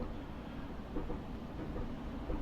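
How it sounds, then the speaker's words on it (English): A passing train in the railway game Train Simulator Classic, heard from a Class 465 on the Rainham to Faversham run: a steady, dense rumble that holds at an even level throughout. "Now that train that has just passed us"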